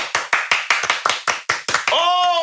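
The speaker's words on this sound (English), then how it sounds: "I got somebody to clap with me" A handful of claps ring out one at a time in an uneven rhythm in a podcast studio, close and crisp, before a held, sung-sounding voice takes over at the end.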